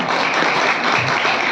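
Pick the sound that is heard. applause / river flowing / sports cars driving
applause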